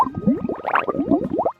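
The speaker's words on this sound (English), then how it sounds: "It lifts up on the ground spewing ink and it has sound effects." Squelchy, bubbling gurgles from a pet spewing ink in Roblox Epic Minigames, a quick run of rising liquid blips and splutters lasting under two seconds, fairly close and alone, ending abruptly.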